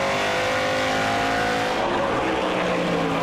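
A NASCAR Pinty's Series race car at the Fall Brawl roars continuously at full throttle, heard close from the front bumper, its engine note holding steady and shifting slightly midway with a faint tire squeal.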